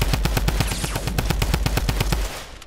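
Rapid automatic gunfire in the video game Fortnite, a steady stream of loud, evenly spaced shots close up that runs for a couple of seconds before stopping, with no talking.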